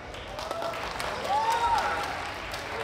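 Bluegrass show audience at a strawberry festival clapping for Them Sweeney Boys, a loose round of applause with scattered whistles and shouts swelling in the middle, then easing off.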